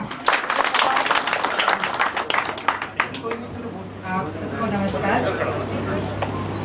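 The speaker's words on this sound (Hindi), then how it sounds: "जोरदार तालियां" Loud applause from an audience at a speech event in New Delhi, dense clapping for the first three seconds, then thinning into scattered claps over a steady low hum and murmuring voices.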